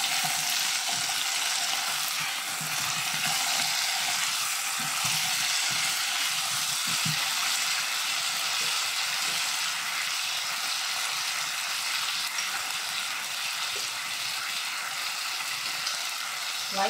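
Chicken wings fry in a pan with white soy sauce while being stirred together, giving a loud, steady sizzle that runs without a break, with soft stirring scrapes underneath.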